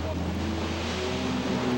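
Ocean surf rolling in at Oahu on a shore known for dangerous killer waves, a steady broadband wash with wind buffeting, loud and continuous with a faint low hum throughout.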